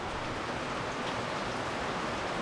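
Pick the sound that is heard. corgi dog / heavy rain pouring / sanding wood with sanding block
heavy rain pouring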